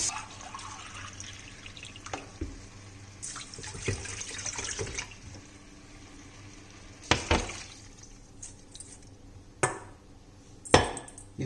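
Water is poured from a tumbler onto quinoa in a pot, heard as a soft trickle and splashy bursts with brief louder pours separated by quiet gaps.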